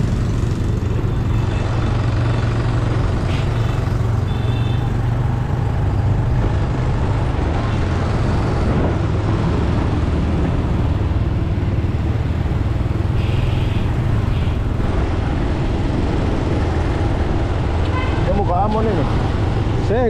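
A rented motorbike rides through traffic, its engine and rushing road noise loud and constant throughout, with passing vehicles and people talking over the din.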